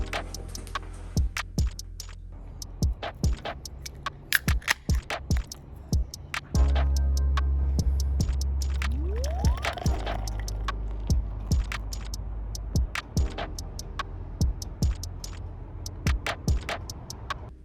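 A can of Trick or Treat Kittens beer from Fat Orange Cat Brew Co. is opened and hard-poured into a glass: scattered close clicks and taps, then a steady foaming pour for a few seconds whose pitch rises as the glass fills.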